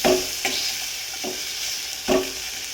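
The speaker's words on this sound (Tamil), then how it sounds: "மிக்ஸ் பண்ணிட்டு மேஷர் எடுத்து இப்படி மேஷ் பண்ணிக்கோங்க." A masher works potato filling for masala dosa in a hot pan, several dull thuds and scrapes spaced unevenly over a constant sizzle.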